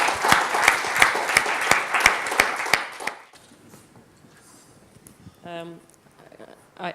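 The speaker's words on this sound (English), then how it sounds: "please also applaud Mathieu and Randy" An audience at a technical user panel gives a short round of applause with distinct sharp claps for about three seconds, then it stops and a quiet room with faint voices follows.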